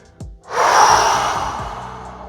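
A person exhales audibly during a slow mobility exercise, one long breath out rising sharply then trailing off gradually over about two seconds, close and alone.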